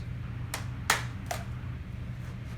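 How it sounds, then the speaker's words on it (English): Hands clap while paper is tossed and caught, three sharp separate claps over a steady low hum, the middle one loudest, with no talk. "strike it from underneath, clap 1 time, and then catch it in 2 separate hands"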